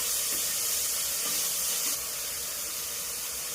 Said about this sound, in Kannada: ಒಂದು ಈರುಳ್ಳಿ ದೊಡ್ಡದು. ಹಾಕಿ ಚೆನ್ನಾಗಿ ಫ್ರೈ ಮಾಡಬೇಕು.